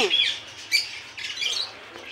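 Birds call in short, bright chirps and squawks, a few quick bursts spaced across two seconds at moderate distance, with no talk over them.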